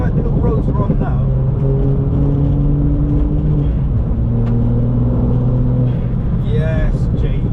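A VW Up GTI with 155 bhp drives along narrow country lanes, its engine a steady droning rumble that rises and shifts in pitch with the revs, close and continuous from inside the car.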